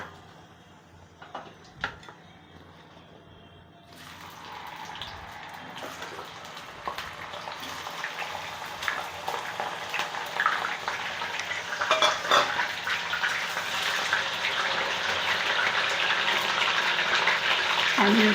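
Yam tubers and stuffed eggplant sizzle in hot oil while being made into Gujarati undhiyu, with a steady crackling fry that starts near four seconds and builds louder, under scraping utensil and stirring clatter.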